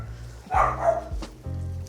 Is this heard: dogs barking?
yes